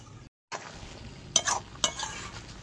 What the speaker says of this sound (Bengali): আস্তে আস্তে নাড়াচাড়া দিয়ে কচু শাকের জলটা টানিয়ে নেব।